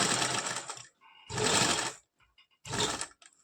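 A sewing machine stitches a kurta collar placket in three short bursts of rapid whirring, each about half a second to a second long, separated by brief quiet pauses.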